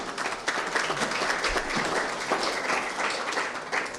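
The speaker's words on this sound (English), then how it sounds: "I would like to again have a round of applause for all the people who have always supported us very generously" Audience applause for the sponsors at a cricket tournament event, a steady wash of many hands clapping that holds at an even level for the whole stretch with no talk over it.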